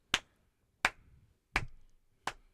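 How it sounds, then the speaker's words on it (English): Four slow, evenly spaced hand claps, each a sharp, close crack with a short decay and long pauses between them. "Slow clap."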